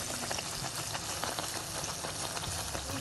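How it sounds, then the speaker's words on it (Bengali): Mango malpua frying in oil over medium-low flame, a steady, fairly faint crackling sizzle throughout with no speech. "লো মিডিয়াম আর মিডিয়াম এর মাঝে রেখে ভেজে নিতে হবে"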